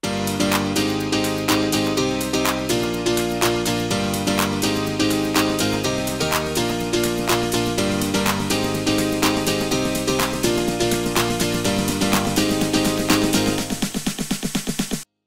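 A dense house track plays continuously with sustained synth chords, a high string line on top and steady drums that tighten into a fast build-up roll near the end before stopping abruptly.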